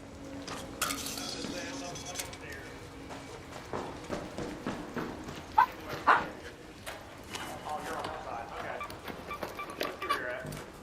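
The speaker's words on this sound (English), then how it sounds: "my dog's going crazy" A real dog barks and yips excitedly in the room, with several sharp barks and whimpers rising above the sounds of an Arc Raiders game and someone talking throughout.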